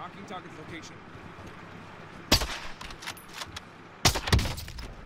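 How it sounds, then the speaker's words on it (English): Guns fire in a shooter video game: two loud bursts of shots, the second a rapid cluster of several cracks, with quieter game noise between them and a voice talking over it. "my guns were just shooting on their own"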